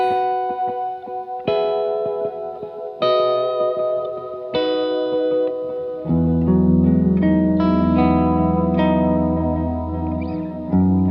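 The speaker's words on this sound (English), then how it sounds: "it switches to the dual delay setting, my favorite setting, which is of course in stereo" Electric guitar notes through a stereo dual delay pedal, dotted eighth on the left and quarter on the right, echoes repeating behind each phrase, the delayed repeats layering into a dense, shimmering wash.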